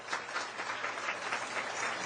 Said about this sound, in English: if you'd please stand to give them a round of applause